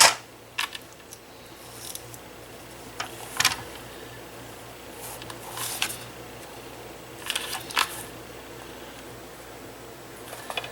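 Scissors snip through lantern material for a winter lantern craft, a handful of sharp, close clicks and cuts spaced irregularly over a quiet steady hum.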